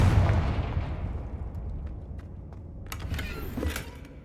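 A deep booming blast from a Confringo spell in a Harry Potter video game, loud at first and decaying into a rumbling tail, followed by a few small crackling pops.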